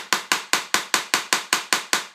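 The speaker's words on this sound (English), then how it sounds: "I'm going to start hammering that nail in there like that." Ten sharp, evenly spaced strikes of a small hammer on a nail going into a wooden baseboard, each a crisp close knock with a short decay, steady rhythm, no voices.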